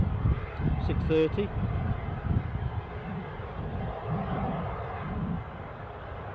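A departing jet at Newcastle International airport rumbles low and moderately distant under steady talk, its roar rising and fading unevenly across the stretch.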